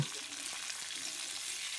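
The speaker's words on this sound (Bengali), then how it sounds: "এবার আমি সব সবজিগুলো ভাজবো ফুলকপিগুলো বিনগুলো একটু আগে ভেজে নেবো" Cauliflower florets and beans sizzle steadily in a hot pan with even, continuous crackle and no voices.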